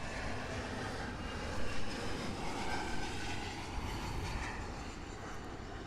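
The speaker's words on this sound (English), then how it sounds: "And arriving here on runway 9 is American Airlines flight 3959 from Tampa." An American Airlines Embraer E175 LR jet landing on runway 9 at Miami International Airport, a steady, loud broadband engine roar that holds evenly throughout with no voices.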